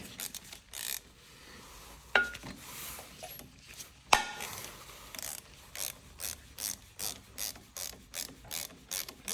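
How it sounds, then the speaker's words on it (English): A 1/4-inch hex ratchet turns bolts on the lower rocker box of a Gilroy Indian PP100 motorcycle, giving a steady run of quick clicking strokes close up, with a couple of sharper metallic knocks partway through. "I have the long rounded hex, 1/4-inch hex ratchet here, Allen."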